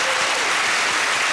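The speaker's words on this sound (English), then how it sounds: "A jolly, encouraging and patronising round of applause to you" Studio audience claps in a dense burst of applause, loud and continuous throughout the short span.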